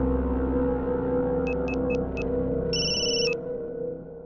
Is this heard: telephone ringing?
yes